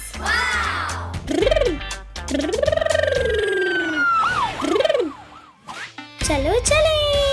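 A cartoon ambulance siren wails loud and near in repeated rising and falling sweeps, broken by short gaps, with a brief voice in between.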